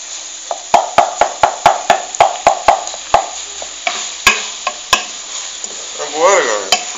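Okra farofa stirred in a pan, a loud close run of rhythmic knocks and scrapes of a spoon against the pan over a light sizzle.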